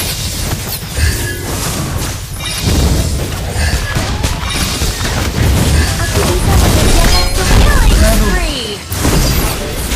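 A turret is destroyed in the Mobile Legends video game, with loud crashing booms and bursts layered over busy game effects and chiming tones, while voices are heard throughout.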